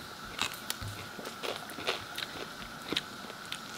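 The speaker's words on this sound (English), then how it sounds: "The lemon cuke. From seed to table. Mmm, so crunchy." Someone bites into a crunchy homegrown lemon cucumber, giving several short, close crisp bites with chewing crunches between them at a steady pace.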